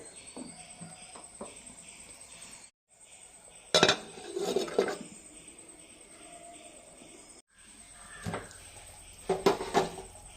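A lid is set onto a pot of curry simmering on high heat with its ground spice paste, giving a few sharp metallic clinks and clatters over a low steady background hiss.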